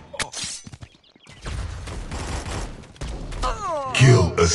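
Rapid bursts of gunfire in the mobile shooter Guns of Boom, crackling fusillades layered with game effects and announcer voices, loud and close, with a rising whooshing tone near the end.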